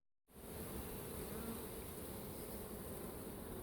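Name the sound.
honey bees buzzing at an opened hive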